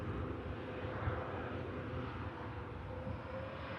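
KLM airliner landing at Manchester Airport, a steady broadband engine rumble and roar holding at moderate level throughout, with a faint tonal whine running through it and no voices.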